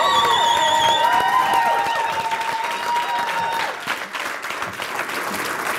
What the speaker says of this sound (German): Publikum, applaudiert euch mal auch selber!